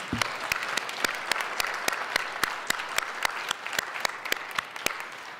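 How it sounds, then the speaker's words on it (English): A large audience at the 2023 Los Angeles Day of Remembrance claps steadily and continuously, a dense, even wash of many hands with no voices over it. "Please join me in giving them a big round of applause."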